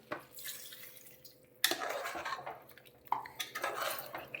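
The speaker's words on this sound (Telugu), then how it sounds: "ఇప్పుడు మసాలా నీళ్ళు వేసుకుందాం." Spiced masala water is poured into a pan of ivy gourd curry, giving a soft splash and watery sizzle. A few louder clinks and pours break in twice over a quiet, steady background.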